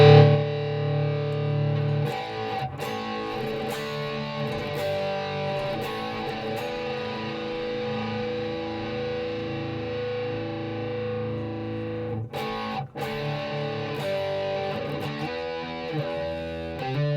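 A crunchy distorted electric guitar tone from a Hotone Ampero 2 amp modeler rings out with sustained chords, a couple of brief breaks where strings are re-struck, played loud and alone.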